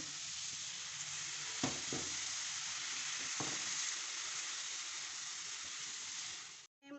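A cheese sauce with salt and milk fries in a pan with a steady, even sizzle, broken by a couple of brief stirring scrapes before it cuts off abruptly.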